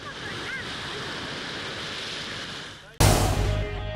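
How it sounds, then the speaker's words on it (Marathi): High-tide sea surging onto the Sindhudurg and Ratnagiri coast gives a steady, loud roar of surf for about three seconds, then cuts abruptly to a louder, harsher burst. "मोठ्या प्रमाणात समुद्राला उधाण आलेलं पाहायला मिळतंय"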